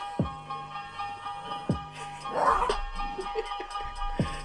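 A dog gives several short, sharp barks spaced about a second apart, moderately close, with a brief whine between them.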